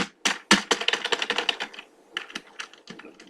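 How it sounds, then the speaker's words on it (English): An old computer keyboard clacks loudly under light typing, each keystroke a sharp slapping tap in quick irregular bursts, close up with brief pauses and no voices. "when I barely touch my keyboard, it literally sounds like I'm slapping it"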